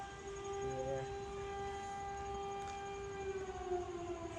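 A distant civil-defense siren wails steadily, a sustained tonal drone holding over faint outdoor background noise, with no voices.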